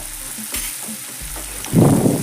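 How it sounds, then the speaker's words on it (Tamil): Chopped tomatoes stirred and sautéed in a hot pan for a home-cooked chapati noodles dish, a soft scrape of stirring giving way to a louder burst of close sizzling near the end. "கட் பண்ணி வச்சுருக்க வே தக்காளியை அதில் நம்ம கலக்கிறோம் இதையும் நல்லா வணக்கிடலாம்"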